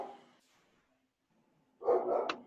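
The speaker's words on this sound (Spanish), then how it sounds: "ahí justo mi perro ladrando" A pet dog barks in a short, loud burst of several quick barks near the end, after a stretch of near silence and faint room noise during a home video call.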